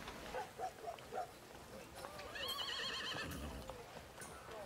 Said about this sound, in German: Nun, Pferde haben wir.